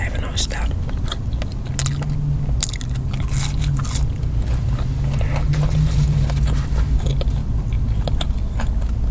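Someone eating fried fish and fries, sharp crunchy bites and chewing repeating close to the mic over a low steady hum, with soft voices faintly underneath.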